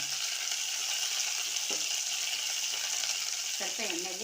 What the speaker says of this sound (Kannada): ಸ್ವಲ್ಪ ಕರಿಬೇವು ಸೊಪ್ಪು ಹಾಕ್ಬಿಟ್ಟು ಇವಾಗ ನಾನು ಸ್ವಲ್ಪ ಫ್ರೈ ಮಾಡ್ತೀನಿ